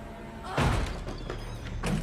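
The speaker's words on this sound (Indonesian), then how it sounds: "lalu dia mendobrak pintu kamar." A bedroom door is forced open in a thriller film, with two heavy thuds against a low rumbling background, the first impact louder and the second following about a second later.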